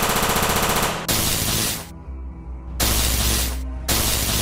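Electric guns fire in the Sakura School Simulator video game: harsh, buzzing crackling bursts of static-like zapping, loud and close, in several long blasts separated by brief lower-pitched humming gaps.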